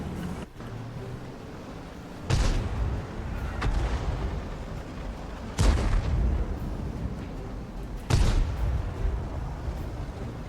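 A German G.W. E 100 self-propelled artillery gun in the World of Tanks video game fires three heavy, booming shots a few seconds apart, each a loud blast with a rumbling tail over steady background wind.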